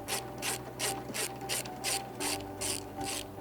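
A ratchet wrench turning an 8 mm grille bolt on a 2018-2020 Ford F-150, about nine evenly spaced rapid clicking strokes, close and clear with no talk.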